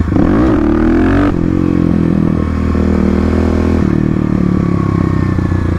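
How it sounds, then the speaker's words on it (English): A stage 3 Kawasaki KLX351 motorcycle revs loud and close while the clutch is popped, its engine pitch sweeping up and down with a gritty mechanical rasp. "So again, I'm getting used to popping the clutch and rear brake."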